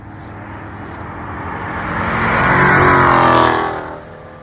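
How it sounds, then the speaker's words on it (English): A Ford Mustang S650 rips around a corner, its engine revving up into a loud, rising roar that peaks near the middle and then eases off as the car passes. "Let me roll a little clip right fast of this thing going around a corner and making a rip."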